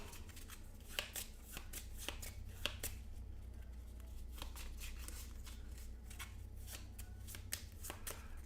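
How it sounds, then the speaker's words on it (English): Playing cards for the Cartographers board game with the Nebblis Plane of Flame map pack being shuffled, a steady run of crisp riffling snaps and clicks at close range, with no talking. "We are going to shuffle that back up."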